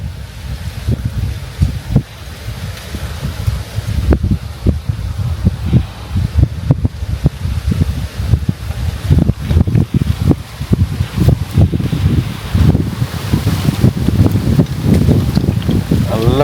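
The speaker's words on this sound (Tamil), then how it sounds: "நல்ல காற்று." Strong wind buffeting the microphone outdoors during a wild rock-bee honey hunt, a continuous loud roar with rumbling gusts throughout.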